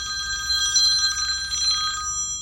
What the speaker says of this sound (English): can someone please get the phone? They're waiting on the line.